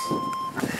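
A cooking timer beeps with a steady electronic tone for about half a second while instant ramen cooks indoors, followed by faint murmuring.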